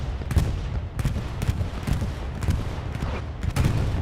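Battle at Omaha Beach in a World War II video game, dense rumbling bombardment with repeated heavy booms and bursts of gunfire at a steady loud level, no talking.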